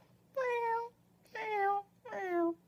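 A person imitates a cat with three separate drawn-out meows, each near and clear, spaced by short pauses.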